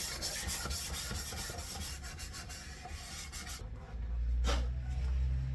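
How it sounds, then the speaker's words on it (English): Fine 400-grit sandpaper rubs steadily along a handmade violin's wooden neck in close, continuous raspy strokes, with a brief lull and a louder low rumble near the end. "I'm up to 400 grade sandpaper, which is the finest grade I'm going to be using."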